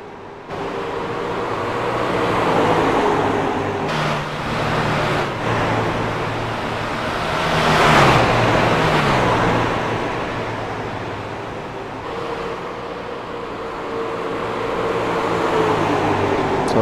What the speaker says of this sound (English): The 88 truck seems to be closing, but I don't believe there's going to be enough time for him to make up 3 seconds on Ron Haglund in that 11 red truck